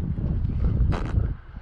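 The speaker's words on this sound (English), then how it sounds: "There's a little bit of a gust." A gust of wind buffets the microphone outdoors during a power-kiting session on inline skates, a steady low rumble with a brief brighter whoosh midway through.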